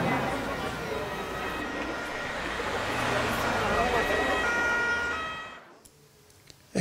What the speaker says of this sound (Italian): Antonio, chiami un'ambulanza.